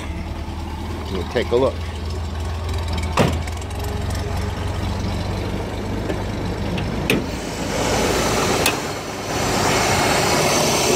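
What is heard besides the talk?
1966 Corvair engine starting and running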